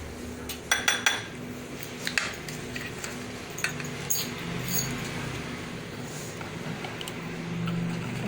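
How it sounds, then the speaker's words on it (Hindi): A teaspoon mixing baking powder into plain flour for a vanilla cake, with clinks and taps of metal against a bowl early on, then softer scraping and stirring. "टीस्पून में मैदे के अंदर बेकिंग पाउडर मिक्स करूँगी।"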